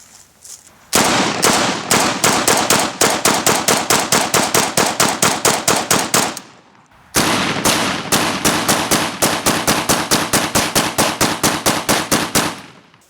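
Rapid AK rifle fire at barbell weight plates: two long, loud volleys of sharp, evenly spaced gunshots, each a string of closely repeated cracks, separated by a brief pause, with no talk.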